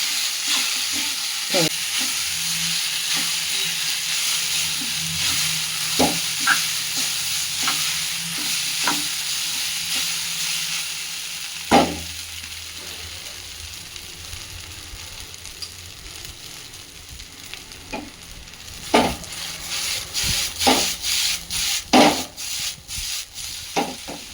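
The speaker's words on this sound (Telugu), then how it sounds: "వేసుకున్నాను లైట్గా సిమ్ మీద పెట్టుకొని ఇలా ఫ్రై చేసుకోవాలి" Nuts, raisins, almonds, peanuts, chana dal and mustard seeds fry in oil over a low flame for poha upma, giving a steady soft sizzle broken by scattered spoon scrapes and taps that grow busier near the end.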